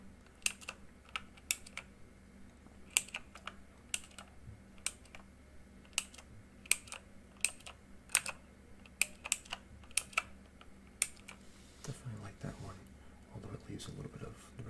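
Fingers type steadily on a colorful, backlit mechanical computer keyboard, producing close, crisp key clicks in an irregular rhythm, followed by a few seconds of rustling handling near the end.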